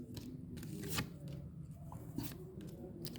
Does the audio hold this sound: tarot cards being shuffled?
yes